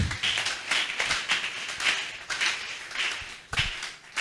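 A church congregation clapping in praise of the Lord, with steady rhythmic handclaps in an even beat, loud and close, repeating throughout without talk.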